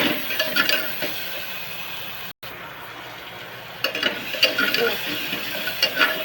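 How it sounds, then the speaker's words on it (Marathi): Onion and tomato roasting in a pan for drumstick dal, with scraping stirs and metal clinks of a utensil against the pan, brief sizzling, and a short dropout partway through. "चांगला भाजून घ्यायचा कांदा टोमॅटो."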